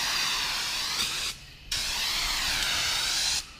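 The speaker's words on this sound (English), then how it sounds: "I ain't never seen a can of spray paint like that." An aerosol can of spray paint releases two strong, loud hissing bursts near the microphone, each lasting over a second, separated by a brief pause.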